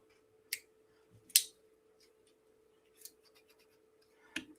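A multi-tool's big spring-loaded scissors being handled: a few sparse, sharp metallic clicks and snips separated by quiet pauses, close and faint, with no talking.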